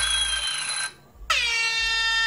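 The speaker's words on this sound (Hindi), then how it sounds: "तो जस्ट मैं हॉर्न पे टैप कर दूँ" A loud, blaring air horn sound effect from an animation app, cutting off briefly, then sounding again with a slightly different tone, held steady over a low hum.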